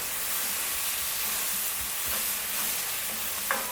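Onions caramelizing in a cook pan for French onion soup, a steady close sizzle and frying hiss with a few soft stirring scrapes, no talk.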